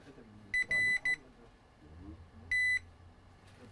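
Multimeter beeping while a diode is tested on a Dell Spectre X360 laptop board during a no-power repair: a few short, loud, clipped beeps, then a longer tone after a pause, over faint room noise.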